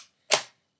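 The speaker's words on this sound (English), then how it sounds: "Fastest shooting Nerf gun there is, from my knowledge." A single sharp pop from a Nerf pump-action toy blaster firing a dart, brief and close, alone in otherwise quiet surroundings.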